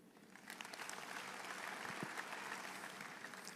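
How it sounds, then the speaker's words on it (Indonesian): A church congregation applauds, a faint but steady patter of many hands clapping for a few seconds, heard at a distance without any voices over it. "Kayaknya tepuk tangannya nggak ikhlas deh ya."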